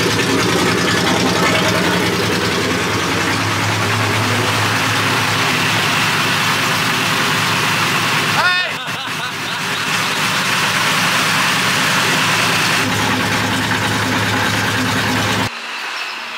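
A high-compression naturally aspirated Infiniti engine with individual throttle bodies, tuned on a Link ECU, runs steadily and loud throughout, with a brief dip in the sound midway and a sharper change near the end.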